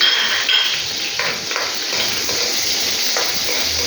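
Onion frying in a pan gives a continuous, fairly loud sizzle with occasional soft scrapes and clinks of a utensil against the pan.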